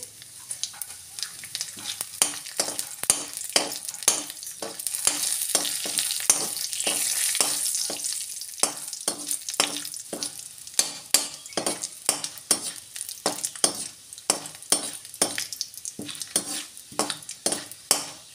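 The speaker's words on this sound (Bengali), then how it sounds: "তেল দিয়ে গরম করে ফোড়নের জন্য শুকনো লঙ্কা, গোটা তেজপাতা দিয়ে দেব গোটা জিরে" Dry red chillies, whole bay leaf and cumin sizzle in hot oil in a kadai, the frying hiss steady beneath rapid rhythmic clinks and scrapes of a spoon stirring, close and continuous with no talking.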